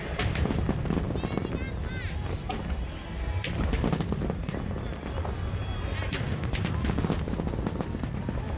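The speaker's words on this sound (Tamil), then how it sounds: "ட்ரோன் ஷோ முடிஞ்சு ஒரு 2 minutesலேயே வந்து ஃபயர் ஒர்க்ஸும் ஸ்டார்ட் பண்ணிட்டாங்க." An outdoor fireworks show explodes in a steady barrage of booms and crackles, loud and dense, with crowd noise and wind underneath.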